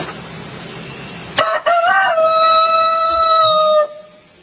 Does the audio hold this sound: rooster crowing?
yes